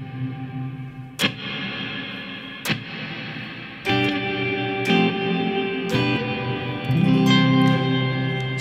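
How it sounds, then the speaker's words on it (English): Electric guitar chords played through a reverb set with longer pre-delay, several sharp strums each trailed by a slightly delayed, blooming wash of reflections that builds and thickens toward the end, loud with no voice. "And now let's increase the pre-delay."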